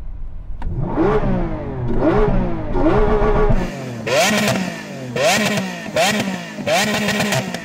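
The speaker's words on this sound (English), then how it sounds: "Go on, Yanni, rev up the Blue Beast" A blue Lamborghini's engine is revved repeatedly during a drag race sound check, six sharp blips that climb and fall in quick succession, loud and close with no talking.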